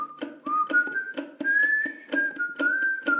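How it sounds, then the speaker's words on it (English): Melodic whistled riff from a song, a bright pitched line with short repeated notes over rhythmic ukulele strums, close and clear. "Let me just show you the whistling and riff, which goes like this."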